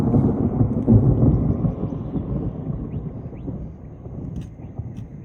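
A deep rumble of thunder from lightning directly overhead during an Italian thunderstorm, loudest at the start and slowly fading, with light rain or wind in the background.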